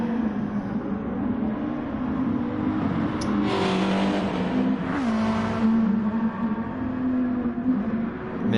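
A race car engine in a racing video game crossing the finish line, holding a loud, steady high-revving drone with a brief pitch shift midway, and no talk.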